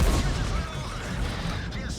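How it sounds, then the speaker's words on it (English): An artillery shell strikes a tank in the World of Tanks video game, a heavy booming blast with rolling rumble and crackle that fills the short stretch at steady loudness. "Oh look, another 300 damage from artillery."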